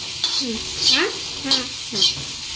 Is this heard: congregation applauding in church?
no